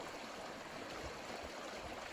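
A winter river flows in a steady, soft rushing wash of moving water, continuous and even with no voices.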